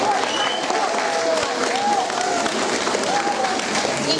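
Audience applause for contestants at a school singing contest, steady and fairly loud throughout, with a voice or sung tones faintly audible over the clapping.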